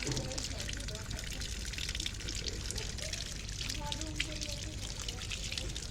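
Coconut water poured from a fresh green coconut at night, a steady soft trickling stream running continuously under a voice talking nearby.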